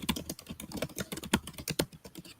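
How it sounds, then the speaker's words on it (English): Rapid, uneven clatter of fingers typing on a computer keyboard, close and fairly loud, with irregular keystroke bursts and no voices. "Sounds like Arthur Dye is typing."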